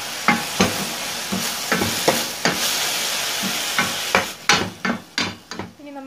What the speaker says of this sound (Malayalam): ഇനി ഇതിലേക്ക് സവാള മുറിച്ചതും കൂടി ചേർക്കാം.